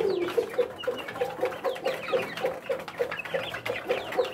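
Rhode Island Red chicks about one and a half months old cluck and peep in steady repeated calls, close by and continuing throughout.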